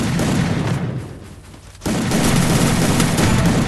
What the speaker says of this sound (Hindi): चलो कैसर को यहाँ पे M10 के अच्छे शॉट मारे थे मैंने,